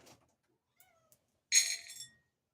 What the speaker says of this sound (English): I forgot to give Kitty breakfast